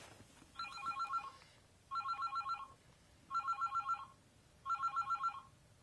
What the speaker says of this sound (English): is that my cell phone?